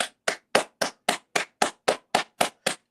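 Hands clap for joy in a steady run of ten sharp, evenly spaced claps, close and loud, with no voices.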